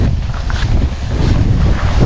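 Strong wind buffets the microphone in a continuous loud roar with low rumbling gusts, close and steady, with no voices.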